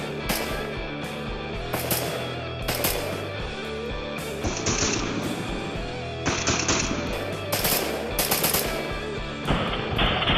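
An M16A1 rifle firing 5.56 mm 55-grain rounds on full auto, loud close bursts of rapid shots one after another with sharp cracks and brief gaps, no voices.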